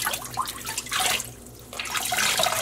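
Dyed superwash yarn rinsed under running water, splashing and trickling in uneven bursts with a short lull in the middle, close and fairly loud.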